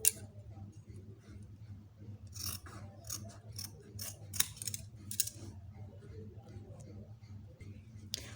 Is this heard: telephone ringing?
no